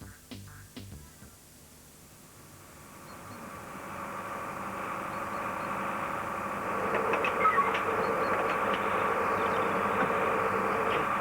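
A big, noisy engine pumping a jet of water some 70 feet into the air, a droning hum that swells from quiet to a loud steady roar and holds there, with no talking over it.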